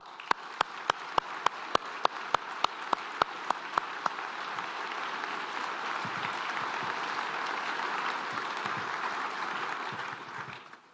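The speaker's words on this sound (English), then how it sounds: "So let's have a round of applause for all that you do." Sustained crowd applause at a military change of command ceremony, opening with a steady run of sharp rhythmic claps before swelling into a dense, continuous wash of clapping that holds loud to the end.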